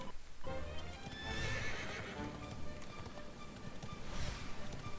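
A horse in the Dragon Quest XI video game whinnies loudly while its hooves clip-clop rhythmically, the neighs rising clearly over the steady galloping.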